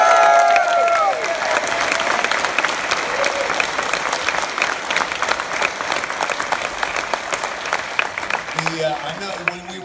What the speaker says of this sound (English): just one more round of applause for Mandy.